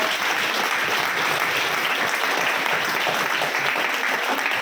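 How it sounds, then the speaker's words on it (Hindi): An audience at a business seminar in Dehradun gives loud, vigorous applause, many hands clapping in a continuous, even roar throughout. "तो एक बार फिर जोरदार तालियां अपने लिए बजाएं"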